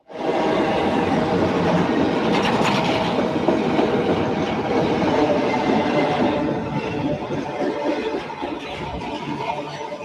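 A long double-stack freight train rumbles past close by on a curve of the BNSF Southern Transcon, wheels clacking rhythmically over the rails, the roar easing slightly toward the end.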